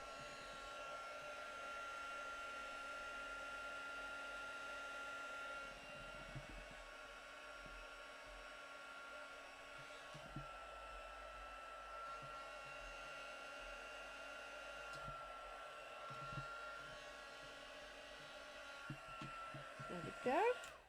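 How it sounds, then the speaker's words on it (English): A heat gun blows hot air for paper-craft embossing, a faint, steady whooshing hum running continuously with occasional small handling noises. "I'm just going to grab my heat gun and heat this up"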